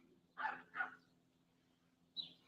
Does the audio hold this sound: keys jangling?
no